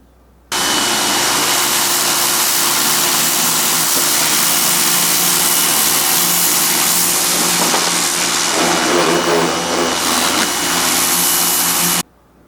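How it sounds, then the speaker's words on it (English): A steady, loud electric motor whine from a Ryobi electric pressure washer, with a high-pitched hiss of spraying water cleaning a boat, runs continuously, starting and stopping abruptly. "we have a little Ryobi electric pressure washer that we use for cleaning the boat"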